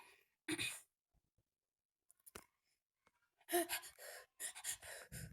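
Short bursts of heavy, breathy exhales and gasps in the video game Swamp Attack, separated by silence, close and fairly loud with a synthetic quality.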